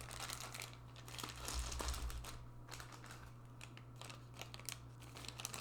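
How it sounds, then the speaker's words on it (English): Small bagged dice being dropped and shuffled back into their cloth pouch, a soft steady rustle of crinkling fabric with light clicking, close and quiet with no talking. "Now let's put my bagged dice back."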